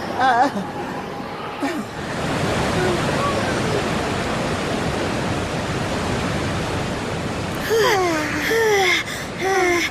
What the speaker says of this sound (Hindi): ये झरना बहुत ही सुंदर है।